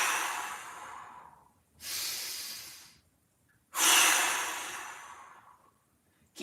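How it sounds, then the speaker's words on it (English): Two deep breaths during a mobility workout: a long, airy inhale and exhale, then a second loud breath in that tapers off slowly. Close and alone, with no talk. "Nice big breath. Expand the rib cage and then exhale."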